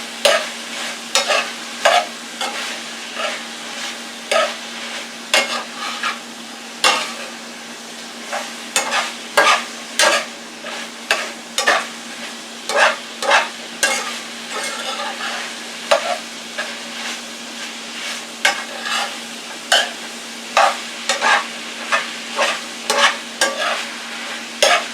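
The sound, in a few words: cooked Italian sausage added and stirred into meat sauce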